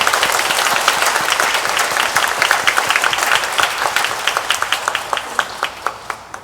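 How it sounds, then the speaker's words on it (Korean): A church congregation at a Sunday worship service claps together in a loud, full round of applause that gradually thins into scattered, distinct individual claps near the end. "청탁의 박수를 한번 우리 할렐루야에서 드리겠습니다"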